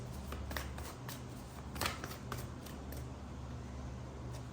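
Tarot cards shuffled and drawn by hand, a steady run of riffling and sliding card noise with a few sharper snaps, close and fairly loud over a continuous low background hum.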